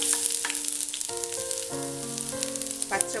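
Ginger sizzles in hot coconut oil alongside popping mustard seeds while bread upma is being made, a steady close crackle with a few soft utensil clinks and no talking.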